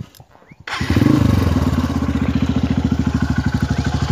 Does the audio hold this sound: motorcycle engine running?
yes